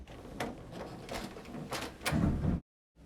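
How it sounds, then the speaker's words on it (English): A door knob turns and a door creaks open indoors, several short knocking and rattling sounds in quick succession ending in a louder scrape, then sudden silence. "Slowly, the knob turned,"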